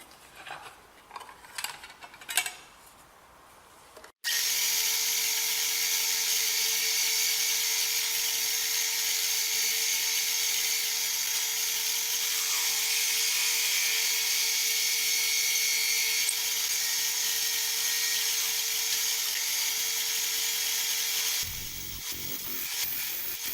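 A power drill whines steadily and close for about seventeen seconds, drilling holes in plastic, starting abruptly after a few quiet seconds of light handling noise.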